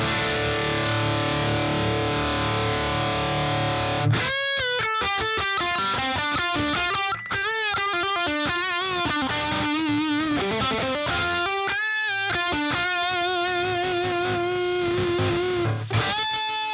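Electric guitar playing a melodic line through a compressor in the Neural DSP Archetype Plini amp-sim plugin, with a thick, evenly squeezed tone, steady loudness throughout, no talking.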